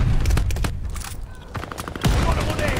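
Gunfire in the online shooter Call of Duty: Vanguard, a match on a map crowded with shotguns, with dense bursts of shots loud and close at first, a lull, then renewed firing, mixed with game noise.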